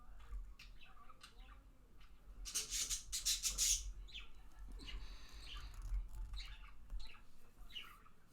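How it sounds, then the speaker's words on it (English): Two pet birds calling indoors, a run of short chirps and a dense burst of harsh squawks in the middle, then scattered tweets, moderately close over a low background hum. "Got two birds."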